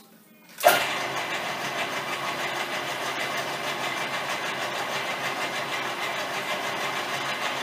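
Milling machine spinning a boring head at 375 RPM in reverse, the uncounterweighted head making it shake; a sudden start gives way to a steady, fairly loud mechanical drone with a whirring hum that holds evenly throughout, with no talk.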